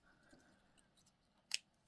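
Scissors cut paper once in a single short, crisp snip, close and quiet, with faint rustling before it.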